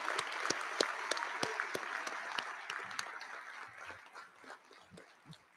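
An audience at the Flathead Electric Cooperative annual meeting gives a round of applause, individual claps sharp and fairly close at first, then thinning and tapering off toward the end.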